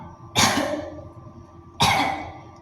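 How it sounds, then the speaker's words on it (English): Two short, deliberate coughs, close and fairly loud, separated by over a second of quiet. "then there'll be that fake cough"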